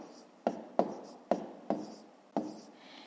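Numbers are written by hand during a long-division exercise, giving five sharp pen taps and scratches in an irregular rhythm, close and quiet.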